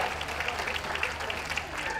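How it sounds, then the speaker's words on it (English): Audience applause for best of breed winners in the pastoral group at the Richmond Dog Show, a steady, fairly faint patter of clapping, with a low hum beneath it. "A huge well done and round of applause for our ex-team best of breed winners"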